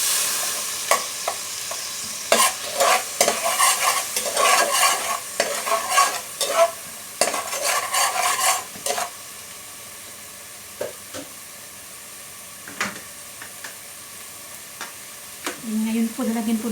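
Pancit bihon being stirred and fried in a pan, with repeated scraping strokes and steady sizzling that fade to sparse clinks toward the end, heard alone without speech.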